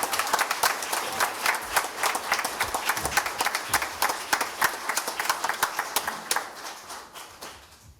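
A small audience at a first responder awards ceremony claps steadily for several seconds, the sharp irregular claps thinning out and fading near the end.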